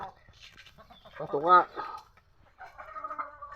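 Hens and a rooster on a farm give short clucks and calls at close range, with one louder burst of squawking in the middle and a person speaking briefly among the birds.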